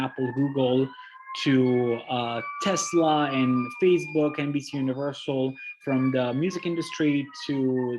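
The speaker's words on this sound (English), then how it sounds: "I apologize about the sirens." Emergency vehicle sirens on a Boston street, a faint wailing tone rising and falling steadily beneath continuous close speech from a presenter.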